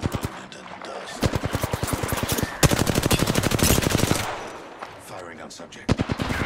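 Rapid automatic gunfire in a video game comes in dense bursts, loud and close, with a long sustained volley in the middle and short shots trailing off at the end.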